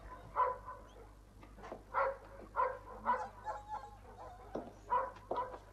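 A police service dog gives a run of short, sharp barks and yips at a fairly regular rhythm, moderately close and fairly quiet.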